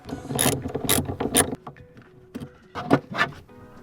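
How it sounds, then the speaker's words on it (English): Ratcheting wrench clicks come in quick close bursts while a car's negative battery terminal is loosened, with metallic rattles and short pauses between turns. "it's a really good idea to disconnect the negative battery terminal"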